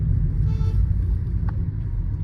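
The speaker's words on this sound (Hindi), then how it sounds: "इतनी भारी इंजन वाली गाड़ी है, वो भी हैचबैक छोटी सी, इतनी अच्छी, इतनी स्मूथ चल रही है" A Volkswagen Polo 1.6 hatchback drives smoothly, a steady low engine and road rumble heard from inside, even and unbroken with no voices.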